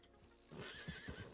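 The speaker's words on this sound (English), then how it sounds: "so we just flee our horse here" A horse whinnying as it is sent away in Red Dead Redemption 2, a short faint neigh followed by a few soft hoof clip-clops nearby.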